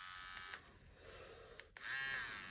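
A Neebol wireless tattoo machine buzzing faintly with a thin electric whine that drops briefly, then returns at a slightly different, steady speed.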